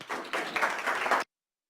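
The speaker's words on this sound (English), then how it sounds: "So please go ahead and give him a round of applause." Audience applause for a presenter at a talk on unmanned aerial system security, a brief burst of clapping from a crowd lasting just over a second before cutting off abruptly into silence.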